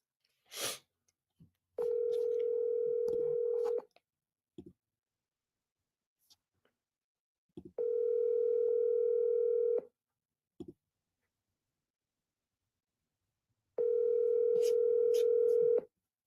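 A telephone ringback tone of three long, steady pulses, each about two seconds, separated by silences, before a call goes to voicemail, with faint clicks between the rings.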